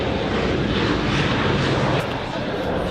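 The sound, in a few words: airplanes at an airport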